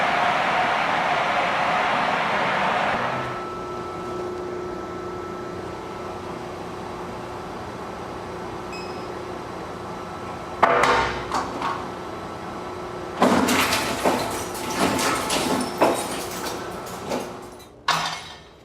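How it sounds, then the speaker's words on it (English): An industrial shredder in a Google data center destroys hard drives: a steady machine hum gives way to loud, crunching, clattering grinding bursts, the heaviest stretch near the end. "Let's go shred some hard drives."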